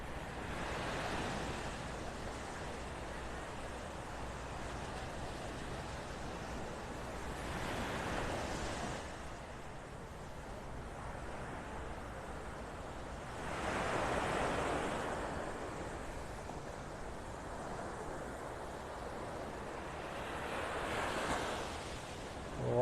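Surf rolling onto Vanderbilt Beach in Naples, Florida, steady wash of waves with three louder breaking swells spaced several seconds apart, light wind noise over the microphone and no talking.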